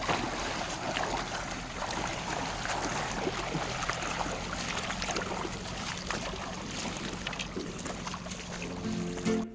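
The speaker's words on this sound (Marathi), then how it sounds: "हे बघा फोर्स बघा पाण्याला किती आहे." A swollen monsoon stream in the Konkan rushes hard after the first rain, a constant close roar of turbulent water with a windy hiss and no voices.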